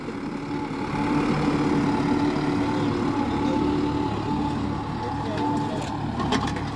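A New Holland 5630 tractor engine runs with a steady, loud diesel drone and low throbbing hum that holds evenly for several seconds, close by, with a slight rise in intensity as it keeps going.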